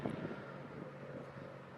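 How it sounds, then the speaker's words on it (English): Wind gusts outdoors beside a river, a faint, steady broadband rush with some low buffeting against the microphone throughout. "Ooh, it's windy."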